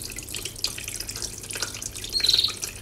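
Steady trickle of running water from a small decorative waterfall on a summer veranda, with brief bright splashes and a faint chirp from a parrot near the end.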